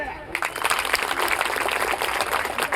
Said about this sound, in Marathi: अजून एकदा विष्णूसाठी टाळ्या.